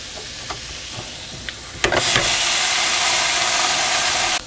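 Chicken pieces flipped in a Ninja cooking system set off a sudden loud, steady sizzle after a few soft clicks, holding as a broad hiss for a couple of seconds before cutting off.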